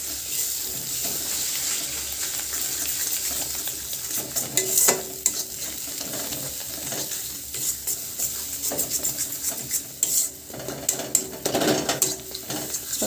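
Beaten egg frying with spices in a hot pan, a steady sizzle throughout with intermittent scraping and stirring clatter of a spatula, close and fairly loud.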